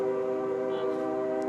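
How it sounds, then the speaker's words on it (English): A passing train sounds a sustained, harmonically rich horn blast nearby, loud and steady throughout, heard at an outdoor home construction site. "There's the train."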